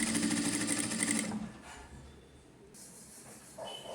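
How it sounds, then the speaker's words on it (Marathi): A sewing machine runs at speed, stitching elastic onto fabric. It gives a steady, fast mechanical whir for just over a second, then stops and leaves a faint room hiss, with a small clack near the end. "आता मी सरळ टीप मारून घेत आहे"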